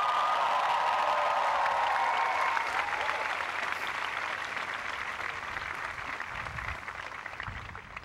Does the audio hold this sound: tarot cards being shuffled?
no